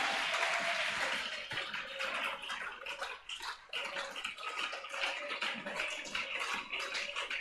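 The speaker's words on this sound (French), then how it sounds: "applaudis encore une nouvelle fois pour toi-même et pour ton Seigneur" A church congregation applauds during a French-language worship service, a dense, steady wash of many hands clapping at once that fills the whole stretch with little change in level.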